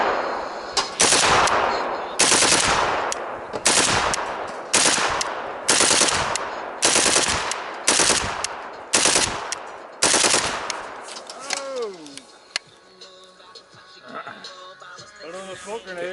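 A gun fitted with a muzzle brake fires outdoors, eight loud shots at a steady pace about a second apart, each with a ringing tail, followed by people talking.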